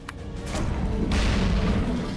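Cannon fire in the Risen 2 pirate video game: a deep booming shot rolls out and swells into a sustained heavy rumble and crash, loud and close, with no talk over it.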